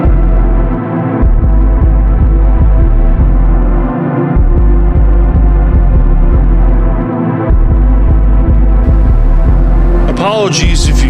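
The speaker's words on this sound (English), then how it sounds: "Apologies if you hear my air conditioner in the background." A room air conditioner hums loudly and steadily close by, a thick low drone with a slow throbbing pulse and brief periodic dips, running on its own.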